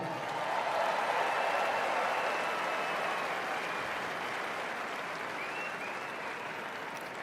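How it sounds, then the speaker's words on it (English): A crowd at the US presidential inauguration of Donald Trump applauds steadily, a dense wash of clapping that holds for several seconds and slowly tapers, with no voices standing out. "give yourself a round of applause right now"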